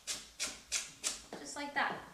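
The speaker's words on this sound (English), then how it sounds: "I just take the top off and then run the rest through my knife." Green onions chopped with a kitchen knife on a board, four evenly spaced close crisp strikes followed by a softer, quicker run of cuts, with a faint voice partly overlapping.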